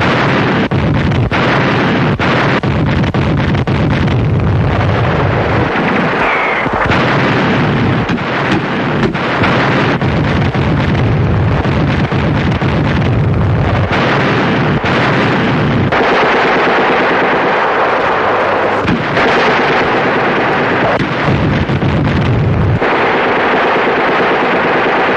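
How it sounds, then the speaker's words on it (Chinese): Loud artillery bombardment and gunfire in 1950 Chongchon River battle film footage from the Korean War: a continuous, dense roar of blasts and rapid firing with short breaks across the whole stretch. "炮兵测量轰击的目标，更大的战斗开始了"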